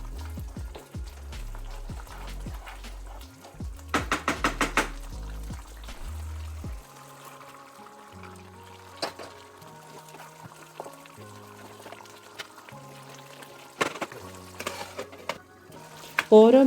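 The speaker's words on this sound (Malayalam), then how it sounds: "തിളച്ചു വന്ന മസാലയിലേക്ക് വേവിച്ച് വെച്ചിരിക്കുന്ന ചിക്കൻ ചേർത്ത് ഇളക്കി കൊടുക്കുക." Cooked chicken stirred into boiling masala in a pot for a Kerala-style chicken curry, with clattering spoon scrapes, stirring and sizzling bursts over a low simmer, close and moderately loud.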